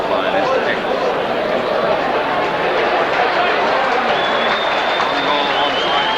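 A crowd at a Warrington v Castleford rugby league match applauds and cheers in a steady, dense wash of clapping and crowd noise, with a commentator talking over it throughout.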